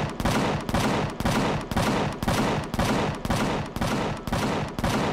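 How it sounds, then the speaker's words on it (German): Rapid bursts of heavy automatic gunfire from a base turret in the game Empyrion repeat in a steady rhythm, each volley loud and close, continuing without pause and with no talking. "auf irgendwas ballert der Basisturm"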